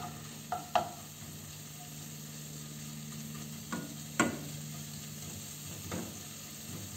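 Onion dropped into hot oil with garlic already fried golden, a quiet steady sizzle under occasional clinks and stirring scrapes of a utensil against the pan, no voices.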